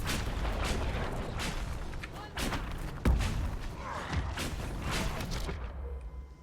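Fire attacks and explosions in the Dragon Age Inquisition video game, a dense continuous rumble of blasts and thuds with a sharp louder boom near the middle, no talk heard.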